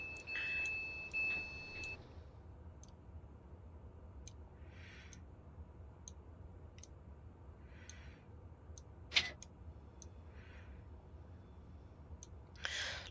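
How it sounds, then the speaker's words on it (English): Door beeps from a train in Train Simulator on the WCML South line between London Euston and Bushey: a series of short, faint electronic beeps and clicks repeat at intervals over quiet cab ambience, with no talking. "Let's open the doors again because we've got a little bit of time."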